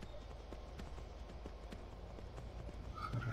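Quiet, steady hoofbeats of a horse trotting along in Skyrim, with a low ambient rumble underneath and no talking.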